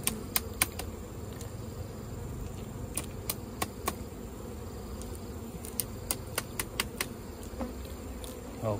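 Bees buzz faintly in a low continuous drone around a hive after relocation, with scattered sharp clicks and taps over the hum and people talking quietly now and then.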